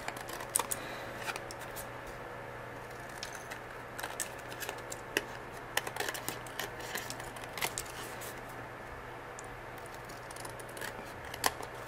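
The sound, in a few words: cutting off excess paper scraps for a card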